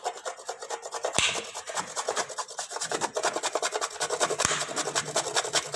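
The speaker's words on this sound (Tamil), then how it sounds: "இப்போ வந்து இந்த சாக்லேட்டை பொடி பொடியாக நம்ம துருவிக்கலாம்." Chocolate being grated into small pieces for nut brownies, a steady rasping scrape repeating in quick strokes throughout, close and fairly quiet, with no talking.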